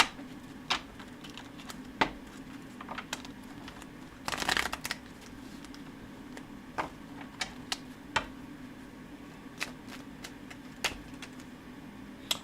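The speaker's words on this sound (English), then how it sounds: "Let's get a good shuffle in." Tarot cards are shuffled by hand in a quiet room, a run of soft, irregular riffling clicks and taps with one longer, louder shuffling burst in the middle, no voices.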